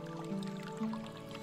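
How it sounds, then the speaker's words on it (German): A few wet gulps and drips of someone drinking water in Medieval Dynasty, short and close but faint, alone without speech. "Wasser. Ein Schluck genommen."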